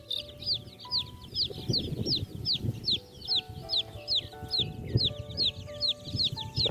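Several chickens cluck and squawk nearby amid rustling and flapping as they are loaded into a truck, with high chirping calls repeating steadily above.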